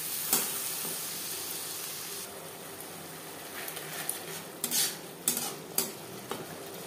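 A paste of ginger, green chili and tomato with turmeric fries on a low-medium flame with a quiet, gentle sizzle, then gets stirred, with several spoon scrapes and clinks against the pot toward the end.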